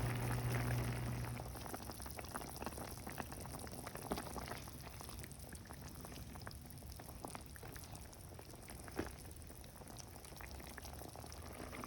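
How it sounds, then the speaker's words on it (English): A pot of brown stew chicken with potatoes boils steadily, giving a continuous soft bubbling hiss throughout with no talk. "I'm just going to allow it to boil for 25 to 30 minutes"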